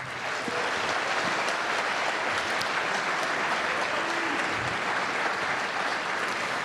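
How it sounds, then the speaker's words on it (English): Steady, full applause from a high school audience at a county band concert, greeting the 9th and 10th grade band with dense, even clapping that carries on without a break, and a few scattered voices mixed in. "can we give them a hand clap, please?"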